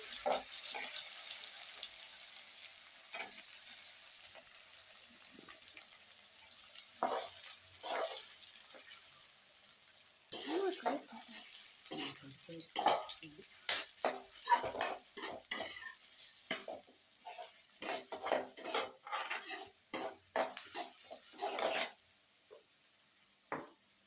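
Green chilies and onion frying in a pan while they are stirred, heard as a soft sizzle under repeated close scrapes and clinks of a spoon on the pan that grow busier toward the end.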